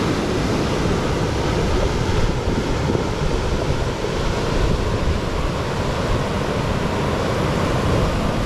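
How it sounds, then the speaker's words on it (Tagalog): A continuous roar of heavy stormy ocean surf and gusting typhoon wind, dense and unbroken, with no voices. "ang laki ng alon"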